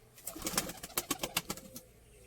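Pigeons coo close by in a quick series of soft, rhythmic throaty pulses that fade out toward the end.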